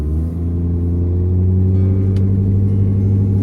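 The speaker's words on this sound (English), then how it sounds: "I'm gonna get the truck started, we're gonna get it driving" A truck engine idling after starting, a loud, steady low rumble that holds even throughout, with no voices.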